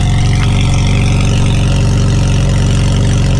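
A Ferrari's exhaust roars loud and steady at close range, about one metre, during a loudness test, a dense low rumble with constant engine harmonics and no one talking.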